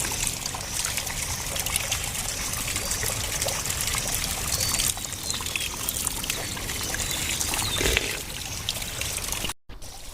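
Water trickling and pouring steadily outdoors for several seconds, a continuous splashing stream with faint birds in the background, then cutting off abruptly near the end.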